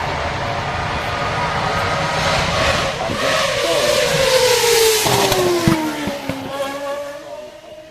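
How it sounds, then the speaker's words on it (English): A Red Bull Formula 1 car roars past on the Goodwood Festival of Speed hill climb, its high-revving engine loud and close, pitch dropping as it passes and echoing through trees, then gear changes as it pulls away. "He's followed by Pierre Gasly in the Red Bull"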